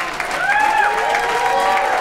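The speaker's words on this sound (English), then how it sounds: "Please give a round of applause for all of these talented people." Audience applause and cheering at a live classical music and beer event in a studio performance space, a steady two-second wash of clapping threaded with whoops and voices.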